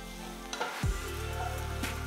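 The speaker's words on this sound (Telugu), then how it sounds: "ఒక పాన్ లో 1 టేబుల్ స్పూన్ నూనె వేస్తున్నాను ఇందులో 2 టీ స్పూన్ల తరిగిన వెల్లుల్లి 2 టీ స్పూన్ల తరిగిన అల్లం వేసి వేయించాలి" Chopped garlic and ginger hit hot oil in a pan, a soft steady sizzle with a brief low thump as they drop in, then continuous gentle frying with no voices.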